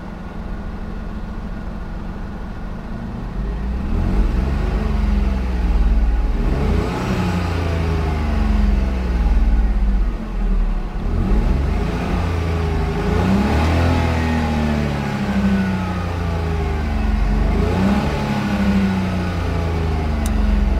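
Idling and repeatedly revved 2018 Smart ForTwo 453 with its 1.0 engine, each blip rising and falling in a steady series of loud, close revs over a constant low idle.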